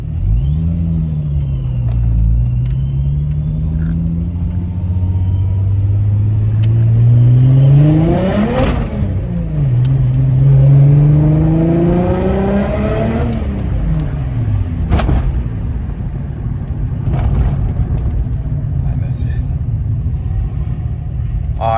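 A supercharged Mk3 Jetta VR6 revs and accelerates through the gears, its engine note climbing in loud rising sweeps with a whine, dropping at each shift, then settling into a rumbling cruise with clatter.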